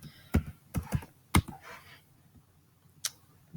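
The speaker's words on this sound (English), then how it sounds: "I'm typing in my password, and then I'm going to click next." Password keys tapped on a computer keyboard in short clustered bursts of clicks, close and fairly quiet, with a pause and one final tap.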